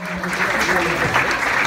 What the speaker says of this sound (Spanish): con este fuerte aplauso recibamos por favor a nuestro anfitrión José Córdoba, el romántico.